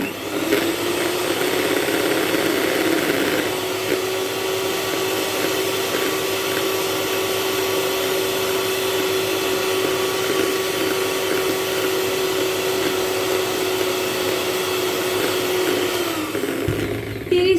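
An electric beater runs at high speed on setting 5, a steady whirring motor whine with a constant pitch that holds for many seconds before cutting off near the end.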